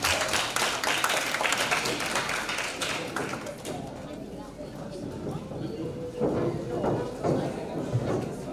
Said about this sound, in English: let's give a big applause for the speakers and the moderator today.